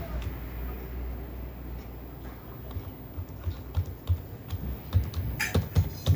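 Keystrokes on a computer keyboard while designing a Bhojpuri album poster, a fairly quiet run of clicks that turns into a faster, louder burst toward the end, with no talk.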